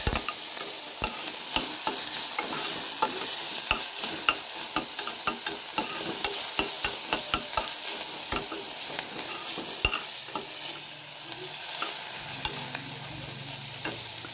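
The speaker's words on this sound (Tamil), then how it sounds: "ஆனியன் நம்ம நல்லா வதக்க போகிறோம்." Onions sizzle steadily in a hot pan while a spoon scrapes and stirs now and then, close up with no talking.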